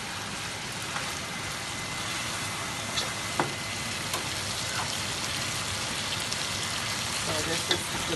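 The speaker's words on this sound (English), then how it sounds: "So I like to fry out all the oil from the meat." Beef fries in oil for a Guyanese curry, giving a steady, dense sizzle close by with a few small pops and clicks throughout.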